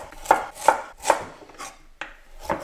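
A knife cuts a peeled carrot into thick rounds on a board: about five crisp, evenly spaced chops, close and fairly loud, with no one talking.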